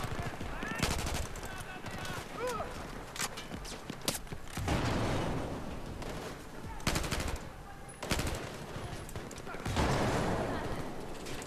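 Battlefield 4 gameplay with bursts of automatic gunfire and scattered single shots, some distant and some closer. There are rumbling impacts and an explosion-like boom, and someone speaks German now and then over the noise.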